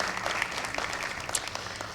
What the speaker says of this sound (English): another round of applause for our two Teachers of the Month, Kim and Lauren